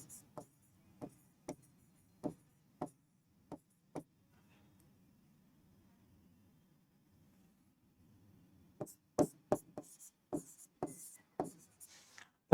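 Marker or chalk strokes on a classroom board in a chemistry lesson, first as separate taps with pauses, then as a faster run of scratches, all close with a low hum behind.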